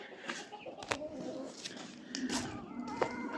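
A few faint cat meows come through at intervals, mixed with people talking nearby.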